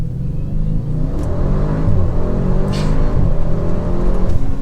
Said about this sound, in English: Let's do another launch control real quick.